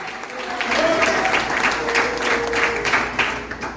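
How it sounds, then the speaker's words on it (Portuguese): Congregation applauding during a church family service, a brief swell of clapping with voices mixed in, rising quickly and holding for a few seconds. "Pode aplaudir mais."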